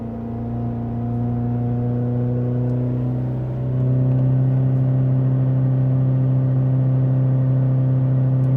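A Volvo V50 1.6 diesel engine runs on its own during DPF regeneration, a steady close drone that steps up in pitch and loudness about halfway through as revs rise and then hold.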